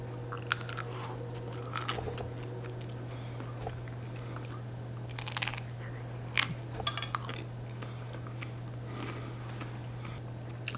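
Crunchy bites and chewing of Viennetta ice cream dessert with chocolate layers, close up, with sharp crackly crunches at irregular intervals over a steady low hum, with no talking.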